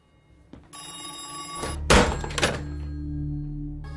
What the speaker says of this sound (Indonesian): Namun tak lama telepon itu kembali berdering.